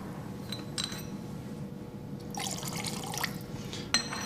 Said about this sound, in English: I can demonstrate this by pouring a bit of methanol into water.